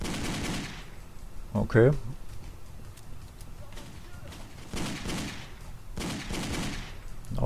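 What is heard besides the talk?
gunfire from the video game Driver 3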